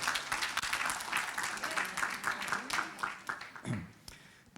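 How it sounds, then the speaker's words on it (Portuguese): An audience applauds, a dense, steady patter of clapping hands that fades out near the end. "Uma salva de palmas para os nossos melancólicos."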